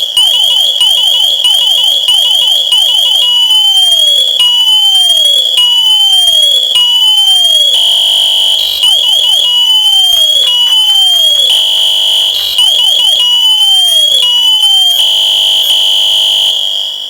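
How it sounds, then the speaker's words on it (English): A loud, piercing electronic emergency alarm from a firefighter's SCBA PASS device, repeating rising and falling chirps and whoops in a steady cycle, shrill and continuous with no talking. "It must go straight to the emergency alarm and it may not be shaken off."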